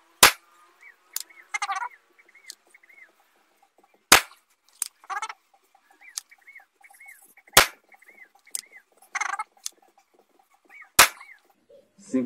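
Tiger M10 PCP air pistol fired on its first stage with 14.65 pellets, four sharp cracking shots spaced several seconds apart, with chirping beeps and brief clicks in between.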